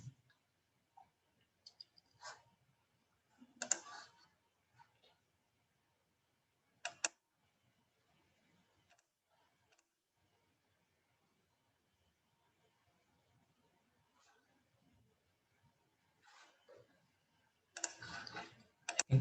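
Sparse computer mouse clicks, quiet and close, a few isolated sharp ticks spread irregularly across near silence, with a small cluster near the end.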